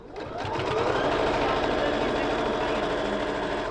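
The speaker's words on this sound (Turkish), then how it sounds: "PAF 260C çok güzel makine." A PAF 260C sewing machine stitches leather pants with a fast, steady mechanical whir and needle chatter, running continuously and close for a few seconds.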